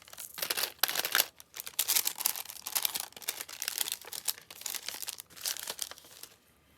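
A small glassine bag filled with little decorating jewels crinkles steadily as it is handled up close, a continuous papery rustle with brief pauses.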